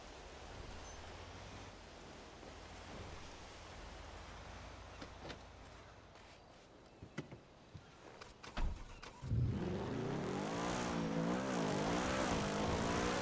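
A car passes nearby in a role-playing video game, its engine rising from a low hum to a loud, close drive-by with a wavering pitch at the end.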